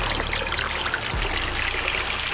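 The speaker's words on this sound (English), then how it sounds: "I have this creating oxygen in the water, which is my pressure line coming from the sump tank" An aquaponics pressure line from the sump tank pours into a fish tank, aerating the water with a steady close trickle and splash that runs evenly throughout.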